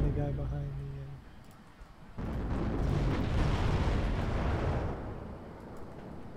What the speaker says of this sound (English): I got some more bombs inbound.